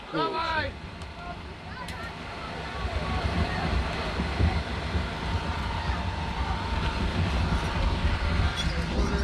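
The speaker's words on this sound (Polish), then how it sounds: "Wieje tutaj mocno, naprawdę." Strong wind at an outdoor concert roars and buffets the microphone continuously, a dense low rumble that swells louder partway through.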